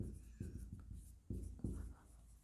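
Chalk or marker writing on a board during an accounting lesson, several quick scratchy strokes in bursts with short pauses, close and fairly quiet, no voice over it.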